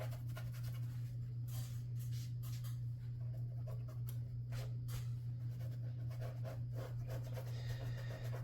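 Brush scrubbing wet watercolor on 140-pound paper, a quiet repeated scratchy rubbing in short strokes over a steady low electrical hum.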